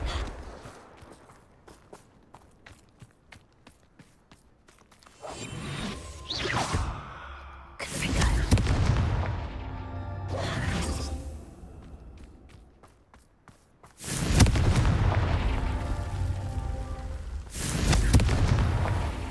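Fire-blast spell Confringo cast during play of the video game Hogwarts Legacy, heard as several loud whooshing bursts and booms in separate waves, rising sharply against a quieter background with no talking.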